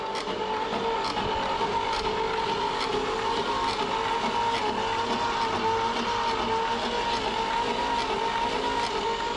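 A big-block 1959 Chevrolet dump truck engine, just started after sitting abandoned for 17 years, runs steadily and sounds dry, with a continuous loud rumble and tapping that holds throughout with no talk.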